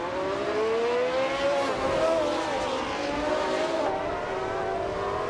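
A 1971 Surtees TS9 race car in a racing video game, its engine wailing steadily at high revs with pitch sweeping up and down through gear changes, loud and continuous throughout.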